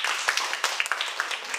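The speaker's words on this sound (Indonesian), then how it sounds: "Tepuk tangan untuk teman." Elementary classroom applause for a classmate in a grade six lesson at SD Inpres Sikumana 2, with quick, light, scattered claps from a group of children over a short moment at modest volume.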